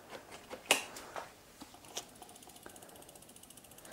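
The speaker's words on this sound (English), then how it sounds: "So we're just going to tighten this spring again to bring the brake over." A bicycle brake spring is adjusted with a tool, giving a series of quiet, sharp metallic clicks and ticks spread over a few seconds. One louder snap stands out early, and the rest are faint and close against a near-silent background.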